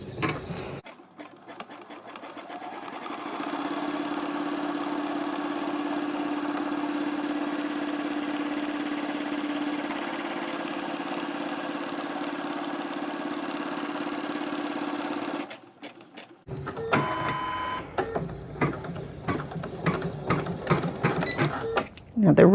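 A Janome MC10K embroidery machine stitches a trapunto quilting design, a steady mechanical hum and rapid needle chatter that runs for about fifteen seconds, then stops, followed by clicks and handling noises.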